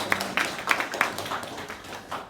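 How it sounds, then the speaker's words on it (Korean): A church congregation applauds in thanks during a Sunday worship service, with a steady run of about eight evenly spaced claps that gradually fade, heard with no talking. "다시 한번 감사의 박수 드립니다."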